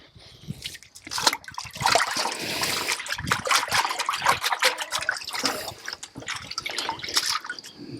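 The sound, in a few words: water hosing slime off flax fibers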